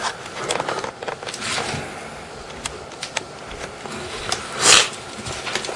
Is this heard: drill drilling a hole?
no